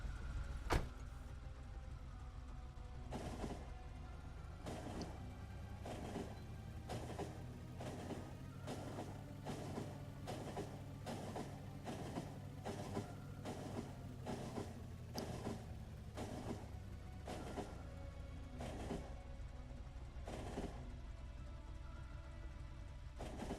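Train riding along the tracks in the video game Factorio: faint, evenly spaced clicks over a soft low hum that swells and then fades, with no speech.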